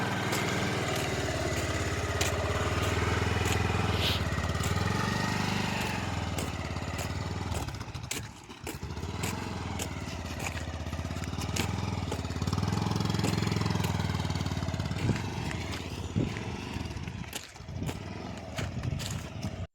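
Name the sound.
motorcycle engine driving uphill on mountain road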